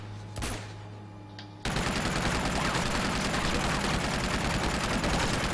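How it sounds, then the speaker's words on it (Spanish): Sustained automatic gunfire in the video game Uncharted 2 starts abruptly after a short lead-in and continues as a dense, loud, steady fusillade to the end. "pues me voy a poner a hacer tiritos a la cabeza."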